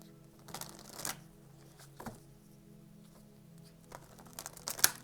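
Tarot cards are riffled and shuffled by hand in quiet, close bursts of papery flutter, with a few crisp snaps as cards slip out and drop, separated by short pauses.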